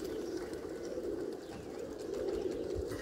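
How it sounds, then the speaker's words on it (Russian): A large flock of pigeons, around 700 birds, coos steadily and densely, a continuous murmuring texture with faint flutters, no one speaking. "Вот очень много голубей, которые бьют."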